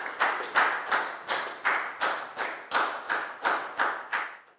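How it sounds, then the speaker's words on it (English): A classroom of primary-age pupils claps in a quick, evenly spaced rhythm, about ten sharp bursts in a row, close and loud with no voices over it. "Big round of applause for Pak Bung, please, guys."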